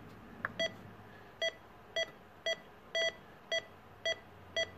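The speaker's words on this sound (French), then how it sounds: "On va aller sur le Roger Beep." Eight short electronic CB radio roger beeps with a pitched tone, spaced about half a second apart, clear and close over a low background hiss.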